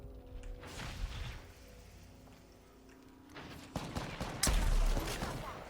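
Distant gunfire in Apex Legends, muffled shots popping far off under a steady game ambience, with a louder burst of fire near the end.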